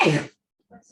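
A single sharp sneeze, loud and close, followed by a brief pause and then faint murmured voices.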